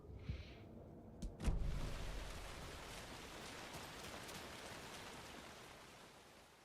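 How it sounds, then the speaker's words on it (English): Steady rain pouring down in Alan Wake 2, a continuous hiss of drops after a couple of brief thumps at the start, no voices. "Well, it's raining"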